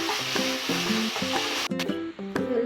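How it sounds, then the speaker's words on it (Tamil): Dried turkey berries (sundakkai vathal) frying in hot oil for a Tamil kuzhambu, crackling sizzle under repeated spoon-stirring scrapes in a regular rhythm, close and fairly loud, no talking. "அதில் சுண்டை வத்த போடுறேன். நல்லா வதக்கி எடுத்துக்கலாம்."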